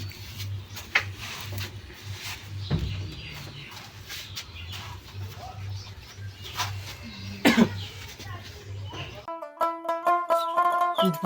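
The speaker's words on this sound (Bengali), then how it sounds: "কাশতে কাশতে জীবন যায়" A man coughs in sharp bursts during a comedy skit, with one cough early and a harsher, louder fit later over a low hum, before music begins near the end.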